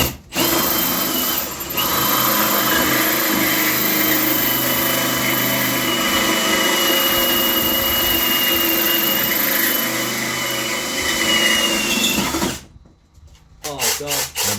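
A power drill runs in a long, steady whine for about twelve seconds while drilling during a consumer unit installation, then cuts off abruptly, followed by brief faint handling sounds.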